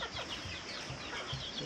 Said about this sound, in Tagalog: mga 2 months old natin na sisiw